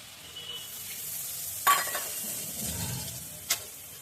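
Spiced curry with chilli and turmeric, with a splash of water added, simmers and sizzles quietly in a pan while a utensil stirs and scrapes it, giving a couple of sharp metallic clinks.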